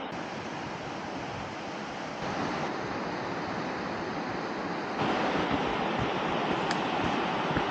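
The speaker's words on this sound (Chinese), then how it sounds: "应该是可以听到这个瀑布的水声啊" The Sipiso Piso waterfall near Lake Toba in North Sumatra gives a broad, continuous rushing roar of falling water. It grows louder in two steps as the listener draws nearer, and no voices are heard.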